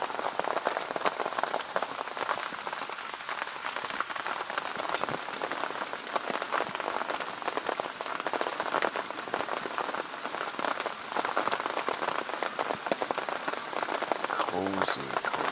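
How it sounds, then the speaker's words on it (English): Rain keeps pouring after dark in a constant, close patter of drops hitting surfaces, unbroken from start to finish, with one brief louder knock near the end and no one talking. "We've got some nice rain"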